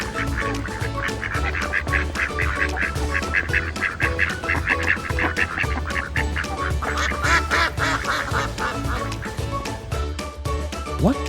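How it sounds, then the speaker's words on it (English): A duck quacking repeatedly and loudly in a close, busy series of calls, with a few honk-like tones mixed in and no talk. "It's a duck."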